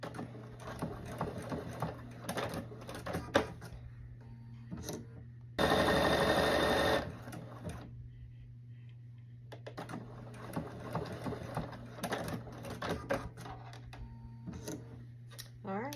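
A sewing machine stitches buttonholes on a shirt button band in short bursts of rapid mechanical whirring, separated by pauses with a low background hum, plus one louder, brighter whir midway; a person speaks quietly at times.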